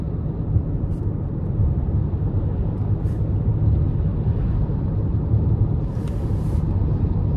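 A 2023 Toyota Crown XLE AWD with a 2.5-liter four-cylinder hybrid pulls under light throttle in normal mode, heard from inside as a steady low rumble of engine and road noise, fairly loud and even throughout.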